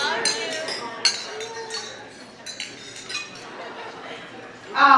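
Glasses clink together in scattered bright chimes during a wedding-reception toast in Pittsburgh, with a crowd murmuring and talking throughout and a louder cluster of clinks at the end.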